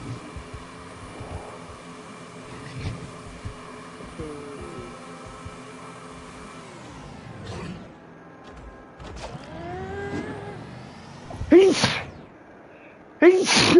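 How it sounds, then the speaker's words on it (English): A person sneezes a couple of times near the end, sharp bursts rising out of a quiet, humming room background. "Oh, come on, stop sneezing."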